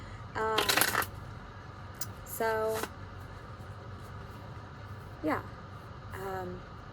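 Several separate bursts of cards being shuffled, quick flicks and riffles spread out over quiet room background, fairly faint and close.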